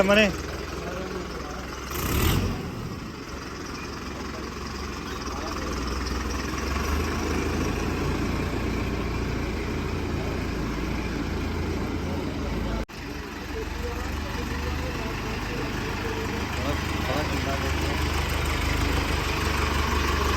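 A John Deere 5050D tractor engine idles with a low, steady rumble, with a brief louder burst near the start and a short dip partway through.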